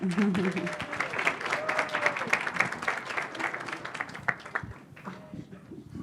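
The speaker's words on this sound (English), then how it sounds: "Let's give her a round of applause." Audience applause at a leadership event, a crowd clapping steadily with some voices and chatter mixed in, then tapering off toward the end.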